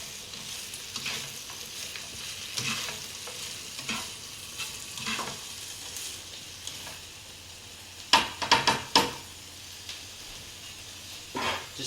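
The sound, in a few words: noodles frying and being stirred in a pan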